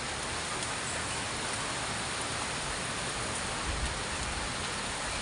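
Steady, dense rain pours down with a constant broadband roar, with strong gusting wind mixed in, loud and continuous with no voices.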